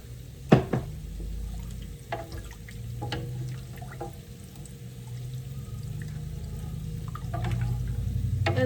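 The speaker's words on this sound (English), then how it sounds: "we're gonna add 2 cups of water" Two cups of water poured into a pot for chicken noodle soup, a soft splashing and trickling with a couple of clinks near the start, then a steady low running-water rush building toward the end.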